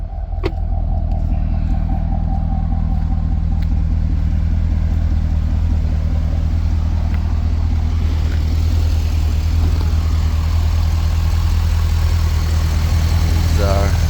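A 2007 Chevrolet Corvette coupe's LS2 V8 idles steadily with a low, even rumble throughout, close and loud.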